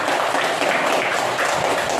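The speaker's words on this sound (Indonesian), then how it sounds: "Beri tepuk tangan dulu buat kita semua" Applause from a class of students during a lesson, a steady wash of many hands clapping together, evenly loud for its whole short length.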